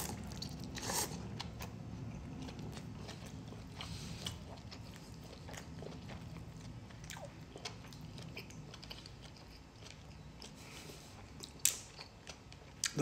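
Spicy ramen noodles are chewed and bitten up close, with soft, wet, irregular clicks and smacks over a faint steady background. No one talks.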